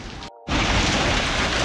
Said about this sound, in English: And now we've got hail.